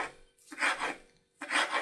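A knife slices through a rolled egg pancake for a bean salad in two raspy strokes with a pause between them, close and clear, with no talking.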